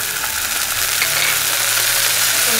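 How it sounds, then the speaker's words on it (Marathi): Onion, chilli and garlic with vinegar and soy sauce are stirred in a hot pan, a steady loud sizzle with scraping motion running continuously and close, with no voices. "आणि मस्त पैकी मिक्स करून घ्यायचंय आपल्याला."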